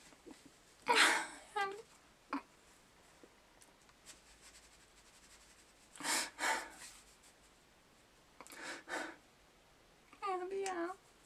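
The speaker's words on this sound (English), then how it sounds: "I've been having the shakiness and having really a hard time breathing and focusing" A person having an anxiety attack breathes heavily and unevenly in several loud, close bursts of strained air with quiet pauses between them.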